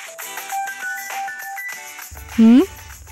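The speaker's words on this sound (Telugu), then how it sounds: "ఫోన్ వస్తుంది, ఎవరో చూడు." A mobile phone plays a bright, repeating melodic ringtone, clear and close, with a brief voice-like sweep near the end.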